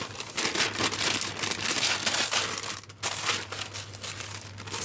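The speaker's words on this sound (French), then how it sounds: "Du papier sulfurisé qui est déjà passé au four." Close-up crinkling and crumpling of stiff baking paper, already oven-used and slightly tinted, continuous and rustly with irregular crackles throughout, no voices.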